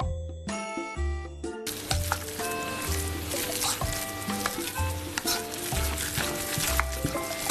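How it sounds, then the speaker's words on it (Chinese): Ground meat filling for steamed meat rolls, mixed with oil, is stirred clockwise in a bowl, giving a steady wet churning and slapping over light background music with melodic tones. "然后我们顺时针搅拌"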